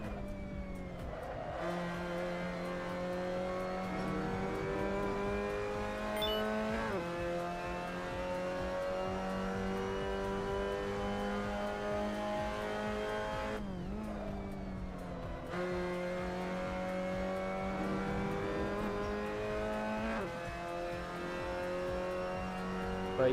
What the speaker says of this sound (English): But yeah, the MX-5 sounds angry.